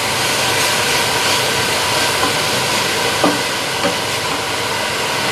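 Minced pork being stir-fried in a pan for a Thai dish, giving a steady close sizzle and crackle throughout, with a couple of faint scrape taps of the spatula and no talking.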